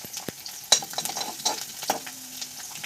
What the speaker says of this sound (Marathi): गरम तेलात पहिल्यांदा आपण लसून टाकू संपली आहे त्यानंतर मोहरी जिरं मिक्सच केलं आहे ते टाकू